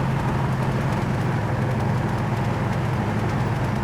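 A 1971 Chevy Nova cruises at about 85 mph, its engine drone and road and wind roar forming a loud, steady, unbroken rush from inside the car.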